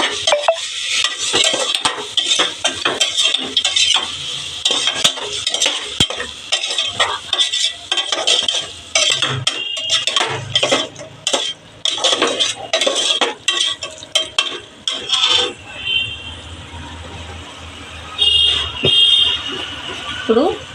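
A spoon scrapes and clatters against a pan of frying tomatoes for tomato rice, with repeated rhythmic stirring strokes over a soft sizzle, close and fairly loud, and a voice talking in places.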